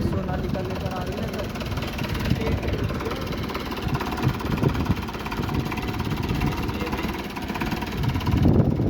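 A Sonalika tractor engine runs steadily at a low, rumbling idle in a wheat and sugarcane field, close by, with wind noise over the mic throughout.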